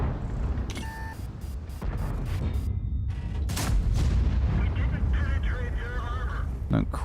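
An E100 heavy tank in a tank video game fires its big gun in several sharp, loud booms over rumbling engine noise, with electronic beeps and a voice talking throughout.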